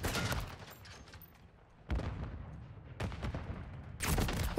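Gunfire in the first-person shooter Modern Warfare 3, sharp bursts of rapid shots at the start, around two seconds, three seconds and again near the end, with quieter lulls between volleys.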